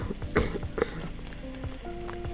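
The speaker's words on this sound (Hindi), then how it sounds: "अब हम इसमें जो शिमला मिर्च कटी है वो डालते हैं।" Chopped capsicum and green onion are added to cooked meat frying in a pan, giving a soft sizzle with a few clattering stirs and knocks, quiet and close, with no voices.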